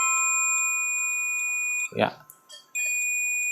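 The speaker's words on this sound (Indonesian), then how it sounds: "Untuk buzzer coba kita cek suaranya" A multimeter's continuity buzzer, on a meter being modified with an LED indicator, sounds a steady, piercing electronic tone. It cuts out briefly while someone speaks a word, then resumes at full strength.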